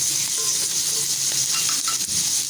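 Chopped tomatoes go into a pan of fried onions for bhuna keema and get stirred, giving a steady close sizzle with faint scraping stir noises throughout.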